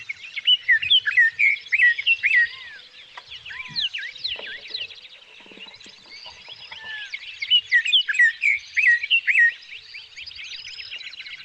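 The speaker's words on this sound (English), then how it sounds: "They sound a little like black-headed grosbeaks. Yeah, they do. There's a lot of that sort of that warbly kind of, that sort of sweet toned musical warbling." A Scott's oriole sings sweet, warbling musical phrases in repeated bursts, clear and fairly close, with quieter bird calls between phrases and no talking.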